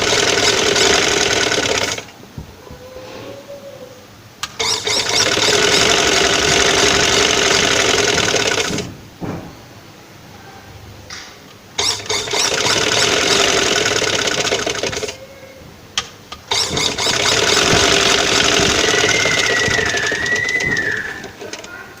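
A sewing machine stitches fabric in three long, loud bursts of fast, steady rattling, separated by brief pauses, with a faint bird call in the background.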